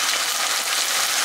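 Potatoes frying in a pan produce a loud, steady, dense sizzle throughout, with no talking.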